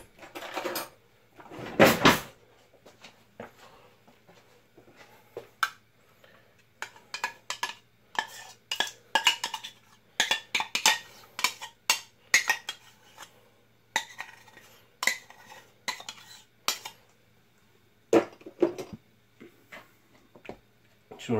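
A spoon stirs buttermilk into scone dough in a bowl, producing irregular clinks, knocks and scrapes against the bowl that come in quick bursts, close up and without speech.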